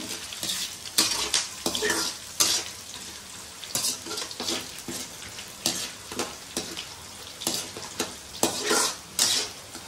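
Tamarind pulihora rice is stirred and mixed in a kadai, with repeated scraping and clinking of a spoon against the pan in an uneven rhythm, close and moderately loud with no talking.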